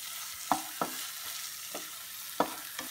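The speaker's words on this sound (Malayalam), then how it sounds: "ഇത് നന്നായിട്ടൊന്ന് ഇളക്കി കൊടുക്കണം" Spatula scrapes and stirs chili powder and spices being sautéed in a pan for a Kerala Iftar pathiri dish, several distinct near scraping strokes over a faint steady sizzle, no voices.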